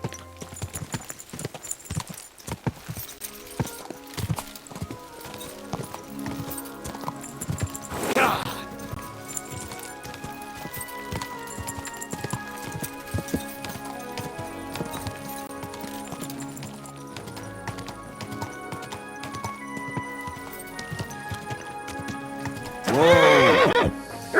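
A horse clip-clops steadily along over game music in Kingdom Come: Deliverance II, with two loud whinnies, one midway and one near the end.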